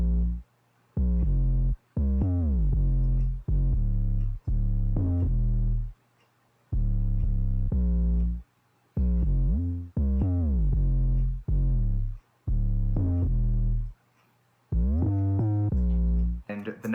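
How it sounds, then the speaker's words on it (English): Deep 808 bass notes from a hip hop take on the national anthem play alone in short sliding bursts with gaps of silence between them, booming and close. "So this is the 808 pattern that I came up with."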